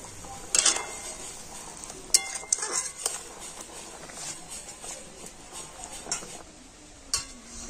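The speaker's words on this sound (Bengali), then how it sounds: "আর দেখুন ঝোলটা ফুটে গিয়েছে, আর এখন আমি ভেজে রাখা মাছগুলো দিয়ে দেবো।" Metal utensil clinks and scrapes against a pan as fried cauliflower fish pieces go into boiling gravy, a few sharp clatters over a soft simmering background.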